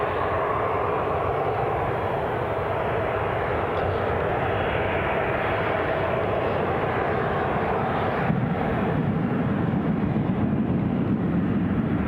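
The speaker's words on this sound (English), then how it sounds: "First metro train of the day." A metro train passing near Newcastle International Airport, a loud steady broadband rumble and rush held for the whole stretch, shifting slightly in tone partway through, with no voices.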